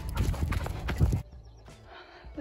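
Horses outdoors at sunset, with brisk hooves clopping loudly and close for about a second, then a fainter neigh or whinny rising over quiet background.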